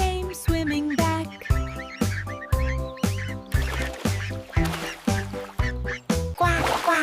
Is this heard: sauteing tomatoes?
no